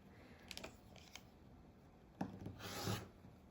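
A fabric quilt block having its sides trimmed, a few light cutting rasps followed by a longer, louder scraping stroke near the end, heard alone without speech.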